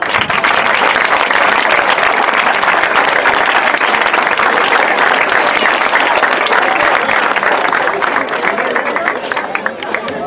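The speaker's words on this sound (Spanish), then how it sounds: "Así que para todos ellos un fuerte aplauso," A crowd at an end-of-year party breaks into loud, sustained applause, dense clapping running steadily for about ten seconds with a murmur of voices mixed in.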